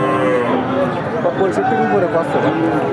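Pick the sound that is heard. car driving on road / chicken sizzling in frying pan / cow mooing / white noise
cow mooing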